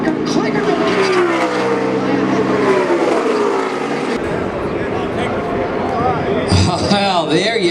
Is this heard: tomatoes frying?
no